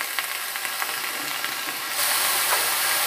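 Mixed vegetables sizzle steadily in a hot pan for a Bengali vegetarian dish, a continuous close hiss that grows louder and brighter partway through.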